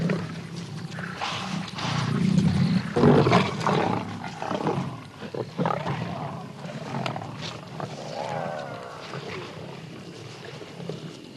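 A hungry lioness roaring in the wild, a loud, rough growl that swells over the first few seconds and then trails into lower rumbling across the rest of the stretch.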